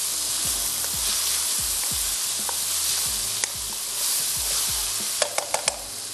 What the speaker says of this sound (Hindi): साथ ही इसमें ऐड कर देंगे ये चॉप्ड शिमला मिर्च और इसको थोड़ा सा करते हैं मिक्स